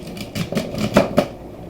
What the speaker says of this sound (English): just cut off those woody ends